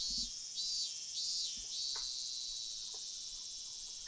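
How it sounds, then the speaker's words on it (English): Cicadas in the Higurashi visual novel game keep up a loud, steady, high-pitched droning chirr, pulsing slightly at the start and then holding as a continuous wash, with a few faint clicks underneath. "my body bathed in the lively voices of the cicadas"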